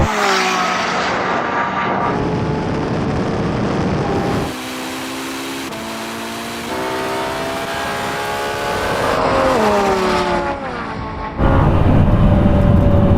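Lamborghini Revuelto, Ferrari SF90 and Porsche 918 supercars in a drag race, engines roaring loud and close with rising, stepping pitch through gear changes, one surge after another and no talk over it.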